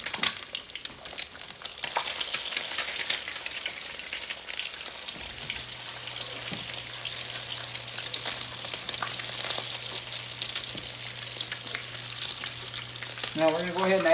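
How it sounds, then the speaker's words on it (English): An egg fries in a pan of oil, a continuous crackling sizzle that starts quieter and swells after a couple of seconds, with scattered pops and small clinks throughout. "So that's going to start frying."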